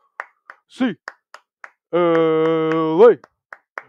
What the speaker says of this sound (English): Eight clap time.